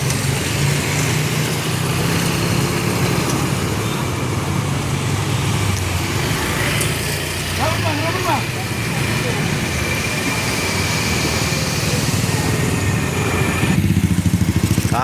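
Heavy night traffic on the Trans-Sumatra eastern highway in Rantau Prapat, with cars and many motorcycles, makes a loud, continuous engine roar and road hiss throughout.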